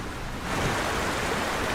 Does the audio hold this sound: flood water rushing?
yes